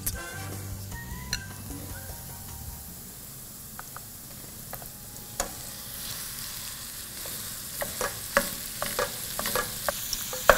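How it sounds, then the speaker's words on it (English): Meat sizzles and fries in a pan with caramelizing onion, celery, carrots and garlic for a Bolognese sauce. A constant hiss runs under scattered stirring scrapes and clicks that grow busier toward the end. "Now that the onion, celery, carrots, and garlic are starting to be caramelized, it's time to add my meat."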